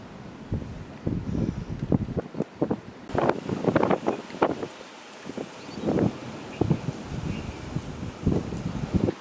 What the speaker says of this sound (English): That's definitely more of a gust.